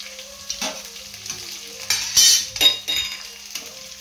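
Onions fry on medium flame in a pan for vegetable chitranna, a soft sizzle broken by repeated scraping and clinks of a spoon against the pan; no voices.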